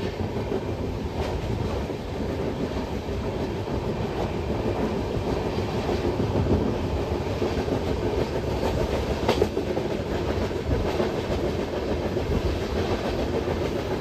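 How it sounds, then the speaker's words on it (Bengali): The Shantiniketan Express runs steadily along the tracks through open paddy fields, a loud continuous rumble with rhythmic wheel clatter and occasional sharper rattles, heard from inside the moving train without talk. "আমাদের ট্রেন এবার খুব সুন্দর একটা কার্ভ নিতে চলেছে"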